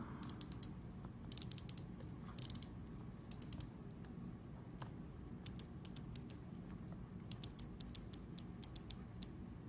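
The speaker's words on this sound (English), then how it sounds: "Let's hear that bezel." Crisp, sharp ratcheting clicks in quick bursts and single ticks as an Aragon DiveMaster 4 Evo watch bezel is turned notch by notch, close and quiet.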